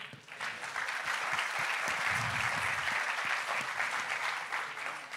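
An audience at a tech festival stage event applauds steadily for several seconds, a dense sustained patter of clapping heard close and loud, with no talk over it.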